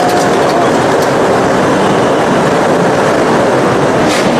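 The Himgiri Express rolls along the rails between Kolkata and Jammu, a loud, steady rumble and rattle heard up close from inside the moving train, with no break for several seconds.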